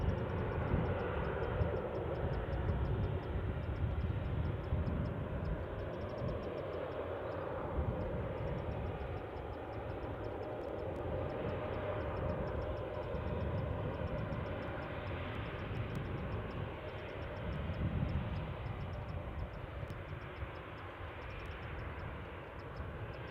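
A Lanzarote airliner rumbles steadily at Newcastle International Airport, a broad continuous jet roar that swells and fades slightly over time, heard from a moderate distance with no voices.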